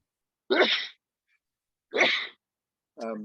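Three sneezes in a row, each a sharp burst separated by silence, the last one shorter and more throaty, heard up close.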